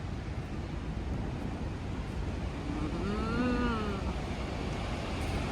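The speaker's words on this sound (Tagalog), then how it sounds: "So here we are at the Horseshoe Falls." Steady broadband roar of Niagara's Horseshoe Falls waterfall, continuous and enveloping at close range with wind buffeting the microphone, plus a faint brief tonal whine near the middle.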